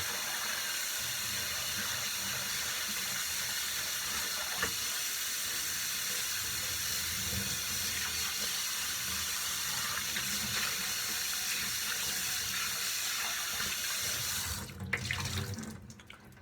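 Tap water runs in a sink to rinse a vintage Dallas Cowboys snapback hat after an OxyClean soak. A steady, fairly faint stream flows for about fifteen seconds, then some close handling sounds follow.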